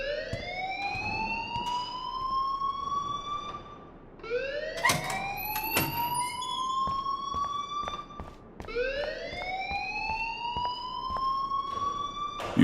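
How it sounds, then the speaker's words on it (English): A rising and falling electronic alarm sounds in the video game Life Is Strange, sweeping upward in three long repeating cycles, steady and fairly loud with no voices over it. "please turn off that alarm since that's your job"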